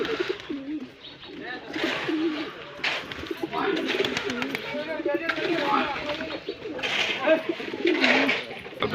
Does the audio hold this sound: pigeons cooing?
yes